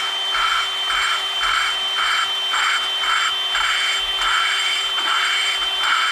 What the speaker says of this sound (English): as I run the drill, she turns